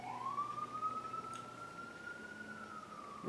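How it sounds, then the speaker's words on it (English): A passing ambulance or police car siren, a steady wailing tone heard at a distance, fairly faint over quiet indoor background. "I got an ambulance or a police car going by."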